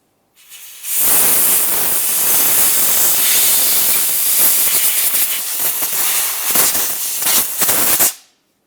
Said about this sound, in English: Use compressed air or whatever you might happen to have.